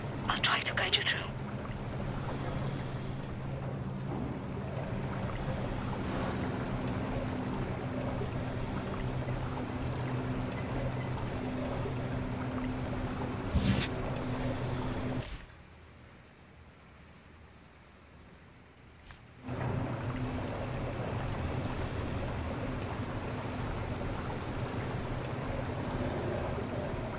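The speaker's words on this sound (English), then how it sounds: "Don't lose track of the tunnel glider." A tunnel glider in the Wolfenstein video game moves through sewer water, giving a steady, murky engine drone and water wash that briefly drops to a muffled hush midway, with a voice speaking over parts of it.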